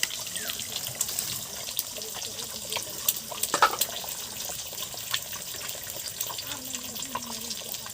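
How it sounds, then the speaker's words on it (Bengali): An egg fries in oil in a pan, giving a faint steady sizzle with soft scraping and utensil clatter and no talk over it. "ডিমটা ভালো করে ভেজে নেব।"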